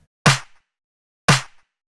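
Layered snare and clap samples in a beat hit twice, a second apart, each a sharp, bright crack with a short tail, alone in the clean gaps between them.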